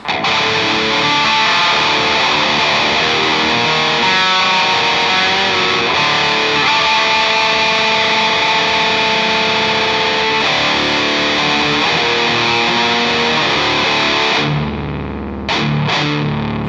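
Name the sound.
electric guitar with Big Muff boost pedal distortion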